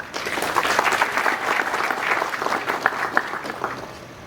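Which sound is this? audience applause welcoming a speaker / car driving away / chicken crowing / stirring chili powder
audience applause welcoming a speaker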